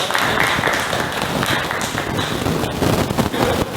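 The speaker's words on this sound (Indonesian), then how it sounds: "Tepuk tangan kanggo Pak." Audience applause at a community early-childhood teachers' class event, a dense, steady wash of many hands clapping at close range for the full stretch, with no voices standing out.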